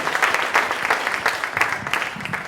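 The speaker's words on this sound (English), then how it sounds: "let's give our companies a round of applause, please." An audience at an MIT Enterprise Forum event applauds the presenting companies, dense continuous clapping with crisp individual claps standing out, steady and fairly loud from start to finish.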